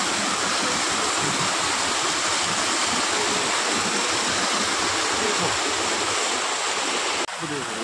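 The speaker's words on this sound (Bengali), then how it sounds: "এখান থেকে জল পড়ছে" Water pouring from a coloured fountain at a temple in Assam makes a loud, steady rushing splash that fills the whole stretch without pause and shifts slightly in tone just before the end.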